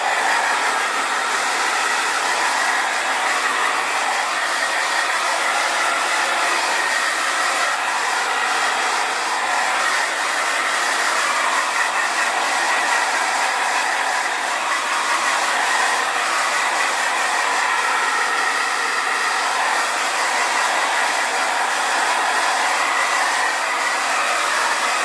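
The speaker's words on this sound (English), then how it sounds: "I'm just going to blow dry a little bit just to kind of lock in the tease we just did" A hair dryer blows on teased, hairsprayed hair in a constant loud rushing roar that holds steady and close for the full length, with no talking over it.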